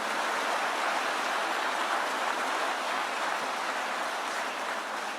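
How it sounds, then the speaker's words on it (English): An audience at a Michigan manufacturing plant applauds the Secretary of Labor, a steady, dense wash of clapping held evenly at a moderate level with no voices on top. "Let's get a round of applause for the great Secretary of Labor"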